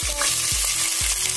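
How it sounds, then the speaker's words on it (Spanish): Pepper, onion and garlic sauté in a pan with a loud steady sizzle and crackle, broken by three rhythmic low thumps from stirring or pan movement, close and without talk. "primero voy a sofreír el pimiento, la cebolla y el ajo"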